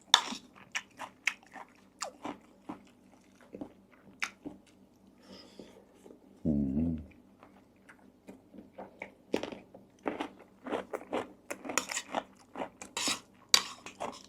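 Someone eats Thai spicy eggplant curry with dried shrimp, producing close, intermittent biting and crunchy chewing sounds with occasional clinks of cutlery on dishes, and no talking.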